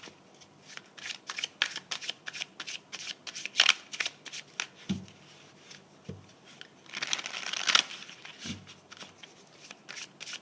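Tarot cards being shuffled by hand, a string of quick riffling rustles and soft slaps, close and fairly quiet, with a few louder bursts and no talking.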